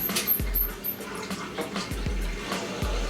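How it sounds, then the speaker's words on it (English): Low, murky water gurgling and trickling through the pipes of a boiler's heating circuit, with soft irregular knocks and bubbling, fairly faint and continuous. "I can actually hear the water gurgling around the heating circuit now."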